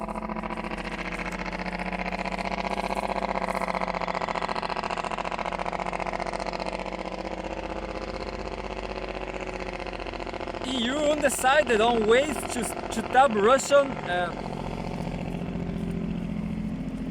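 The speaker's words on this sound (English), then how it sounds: "What a noisy truck!" A noisy truck engine rumbles close by for about ten seconds as a steady, loud drone, then fades under a person talking.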